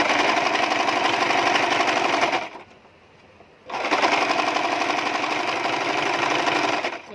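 A sewing machine runs steadily while double stitching a princess-cut nighty, breaking off for about a second before resuming its fast, even whirring run up close.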